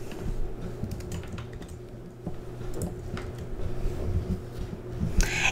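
A title being typed on a computer keyboard, quick irregular key clicks up close over a low steady hum, ending in a slightly louder clack.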